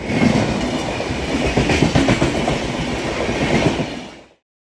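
A train rolls past a railway level crossing at Mullurkara in Kerala with a loud, steady clatter of wheels over the rails, then cuts off abruptly near the end.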